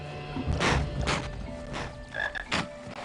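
A frog croaks in a Harry Potter video game, several throaty croaks in an uneven rhythm, fairly close and clear over a quiet background.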